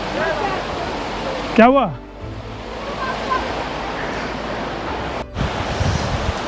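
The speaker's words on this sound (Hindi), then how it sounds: "चलो भाई, इस प्यारे से ब्यूटीफुल वाटरफॉल को अब बाय बाय बोल देते हैं।" A waterfall on a Jalori Pass mountain road trip gives a steady, broad rushing roar that runs through the whole stretch, with brief voices speaking over it.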